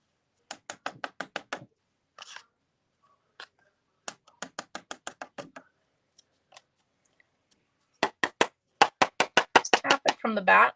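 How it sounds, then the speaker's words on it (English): Card is tapped from the back to knock off loose embossing powder, sharp bursts of rapid knocks in clusters with pauses between, close and crisp, the last bursts louder and denser. "Tap it from the back and you'll find that you'll get rid of most of that powder."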